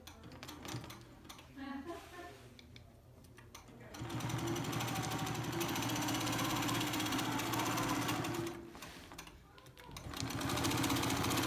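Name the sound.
Innova longarm quilting machine stitching in the ditch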